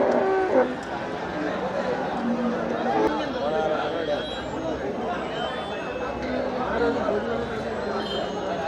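Cattle at the Melapalayam livestock market, with low moos heard through a busy crowd of chattering voices, steady market bustle, and occasional faint movement of animals.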